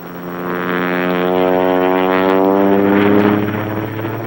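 A modified Chipmunk aerobatic propeller plane drones loudly and close by, its engine holding a steady, strongly tonal buzz that swells slightly over a few seconds.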